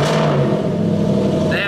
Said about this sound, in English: So, hopefully this will cold start